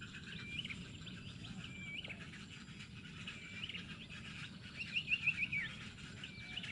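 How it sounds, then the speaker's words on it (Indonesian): Birds call and chirp among mangrove trees, a steady layer of high twittering over a low ambient rumble, with a brighter, closer run of chirps near the end; no talking. "Di balik dedaunan pohon bakau banyak burung hidup bersarang untuk melanjutkan kehidupannya."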